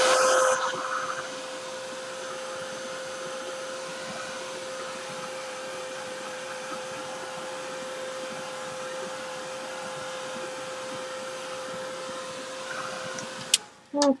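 A heat tool blows steadily on quick-drying paint on a mixed media layout, a constant close whirring hum with a fixed whine that runs for about thirteen seconds, then cuts off with a brief clatter near the end.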